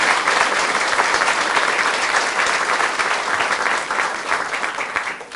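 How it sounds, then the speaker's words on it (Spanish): A church congregation breaks into loud, sustained applause, a dense and even roar of many hands clapping that keeps going for several seconds and eases off slightly toward the end. "Fuertes aplausos al Señor por ser tan fiel."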